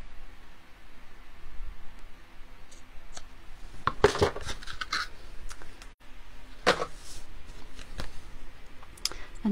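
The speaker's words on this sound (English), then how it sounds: "Let's find my ribbon scissors and just tidy up those ends." Ribbon scissors trimming ribbon ends at a card-making craft table, a few short quiet snips and rustles spread across a low background hiss, with no one talking.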